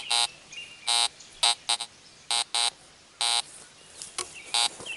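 Fisher F19 metal detector giving repeated short electronic signal tones over soil, about nine bursts of varying length and spacing, loud and close, with faint background noise between them.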